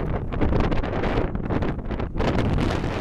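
Strong gusty wind at Hartsfield airport in Atlanta batters the microphone with a loud, continuous roar that swells and dips in gusts, with no voices.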